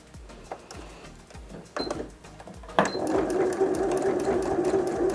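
A sewing machine backstitches at the start and end of a pattern piece, opening with short sputtering stitch bursts and clicks before settling into a loud, continuous rapid whir up close.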